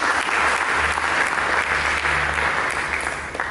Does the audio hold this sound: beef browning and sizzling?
no